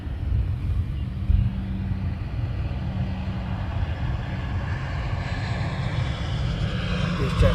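A business jet taxiing at London Luton Airport gives a steady, broad low engine rumble with a hissing wash above it, holding close and even the whole time, with no voices.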